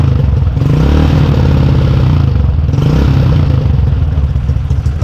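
A motorcycle engine, set up with a 200 spec, idles loud and close with a rough, clattery throb and slight fluctuations in pitch, in steady continuous running with no speech.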